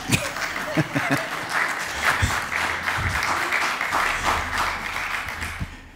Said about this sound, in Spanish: Gracias para el aplauso.